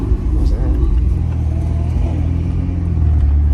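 A Ferrari 488 with a very loud exhaust idles and burbles in a deep, close rumble with small rev surges, while a person talks over it.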